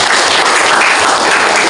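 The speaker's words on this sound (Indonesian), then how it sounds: "Oke, beri aplaus dulu." Students in a classroom clap together in a short, dense burst of applause, loud and continuous from start to finish.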